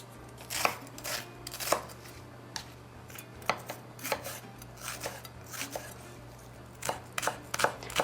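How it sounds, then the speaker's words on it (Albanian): A knife works quickly through an onion, slicing it very thin on a board with a steady run of crisp, close chops and small irregular pauses over a low constant hum. "Qepën e presim shumë holl, që mos të kuptohet kur të skuqet, të tretet sa më shumë"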